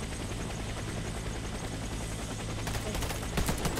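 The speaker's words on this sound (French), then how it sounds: "Oh non il y a l'hélico là" An enemy helicopter in the Warface first-person shooter makes a continuous loud rotor thrum, with bursts of gunfire growing toward the end.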